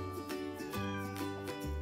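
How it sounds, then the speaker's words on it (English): Meowing cat sounds ring out over a bouncy children's sing-along with steady musical backing, several short meows spaced across the phrase. "say meow."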